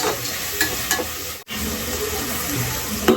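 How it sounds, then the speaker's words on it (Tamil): Ingredients for a mutton nalli kurma sauté in a pan with rock salt, a brief steady close sizzle with light stirring and a short gap in the middle, no voices. "கொஞ்ச நேரம் அப்படியே வதங்கிட்டோம்"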